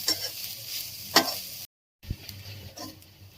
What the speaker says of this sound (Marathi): तर आता आपल्याला खोबरं सुद्धा ना स्लाइटली ब्राउन होईपर्यंत भाजून घ्यायचंय।